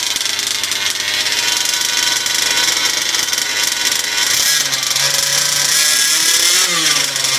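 A 5th scale RC petrol engine runs during break-in, a loud, buzzy two-stroke drone with a strong harmonic whine that holds steady, then bends in pitch as the throttle is varied near the end.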